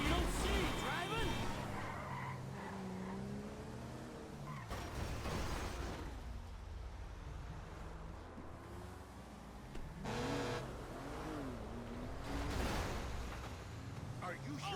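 A car in the video game Grand Theft Auto V drives with a revving engine and squealing skids that rise and fall. Someone talks over parts of it, and there are sharp bangs.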